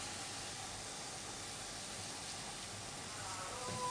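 Onions frying in oil until golden, a steady close sizzling hiss that runs unbroken and fairly quiet.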